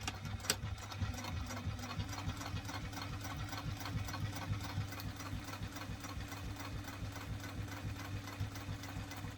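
A sewing machine topstitches a bowler bag, humming with a fast, regular needle rhythm that runs steadily and close for the whole stretch, with no voices.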